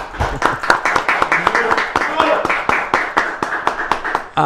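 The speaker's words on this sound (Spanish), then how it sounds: "¿Te recibimos con un aplauso?" Studio audience applause welcoming a guest onto a Paraguayan talk show, with individual claps sharp and rhythmic at close range, steady for several seconds, and voices talking underneath.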